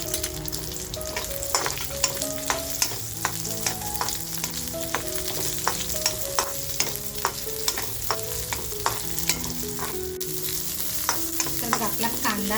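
Chopped onion fries in oil in a pan: a constant bubbling sizzle with frequent light stirring clicks throughout, faint tonal music underneath and no speech.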